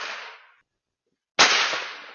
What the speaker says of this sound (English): Other videos show the same man throwing firecrackers towards the home on a separate occasion.